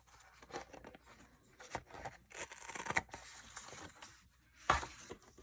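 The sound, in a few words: cutting paper with scissors for a planner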